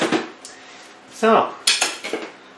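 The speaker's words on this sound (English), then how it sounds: "let's grab that outer pot and put it in" A pot clatters and knocks while being handled during orchid repotting with pumice in a self-watering setup, giving a few sharp, close clinks and thuds in short bursts with quiet gaps between them.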